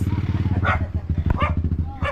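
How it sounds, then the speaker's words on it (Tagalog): A dog barks again and again in a quick, steady series. The barking sounds close and loud and goes on for the whole stretch, with a few voices talking over it. "Yeah, tinahulan na."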